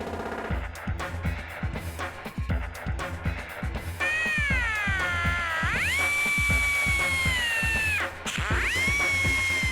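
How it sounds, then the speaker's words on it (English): A power tool cuts the welds on the upper bag mount of a 1970 Hemi Challenger. A choppy run of metallic clatter gives way to a loud, steady whining grind that dips briefly, then picks up again close by. "Cutting the welds will let us use heat to change the angle of the top bag mount."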